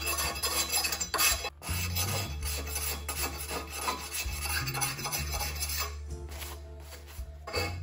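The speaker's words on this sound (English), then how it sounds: "What I'm doing is I'm filing off what's left of the silver solder." Hand file rasping leftover silver solder off a bicycle fork in a framebuilding workshop, a close, steady run of scraping strokes with small metallic clinks and no voices.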